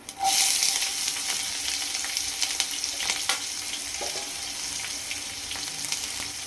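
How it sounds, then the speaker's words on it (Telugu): Onions and green chillies dropped into hot oil with tempering spices sizzle and crackle loudly, a steady frying hiss with faint stirring clicks and no talk. "ఇందులోనే ఉల్లిపాయలు పచ్చిమిరపకాయలు వేసేసుకుందాం."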